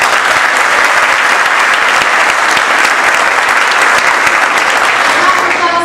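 Dense, loud applause from a crowd at a high school honor society induction ceremony, steady and unbroken throughout, with a faint voice at the very end.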